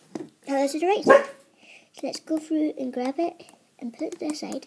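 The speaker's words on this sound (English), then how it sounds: "And that's my dog barking." Dog barking at home, a few sharp barks in the background while a person talks steadily over them.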